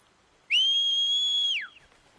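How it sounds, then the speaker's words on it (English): A character in Horizon Zero Dawn gives one loud, sustained whistle lasting about a second, steady in pitch before sliding down at the end, heard alone against quiet background. "God damn, you whistle loud."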